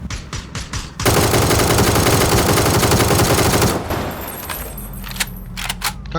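Rapid automatic gunfire in PUBG, a dense, loud, sustained burst of close shots lasting nearly three seconds, with scattered lighter shots and clicks before and after.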